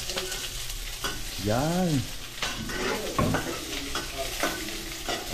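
Onions fry in a pan and are stirred with a spatula, giving a close, steady sizzle broken by repeated scraping strokes, while people talk over it in a home kitchen.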